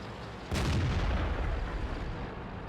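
Tank cannon firing in the video game World of Tanks: a single deep, booming shot that rings out and slowly decays over a steady background rumble, with no voices.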